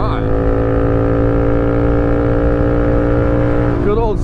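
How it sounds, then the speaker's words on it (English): A Honda Grom motorcycle with a Stunner X exhaust idles and revs nearby, holding a steady, loud harmonic drone before the engine dips and stumbles at the end. "Good old Stunner X exhaust,"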